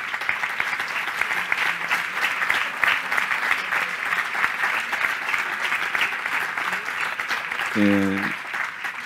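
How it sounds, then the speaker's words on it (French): A crowd applauds continuously, steady dense clapping throughout with a voice briefly rising over it near the end. "Podéis aplaudir a los sanitarios que fueron suspendidos."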